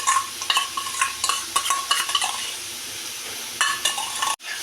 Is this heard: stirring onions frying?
yes